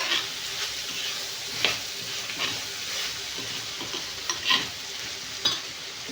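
Half a tomato, thinly sliced, fries in a pan with a steady close sizzle, broken by occasional scraping stirs and small pops, with no voices.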